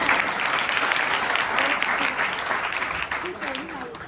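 Audience applause fills a gathering as people clap to encourage someone speaker, a dense, steady wash of many hands that stays loud throughout, with some voices faintly mixed underneath.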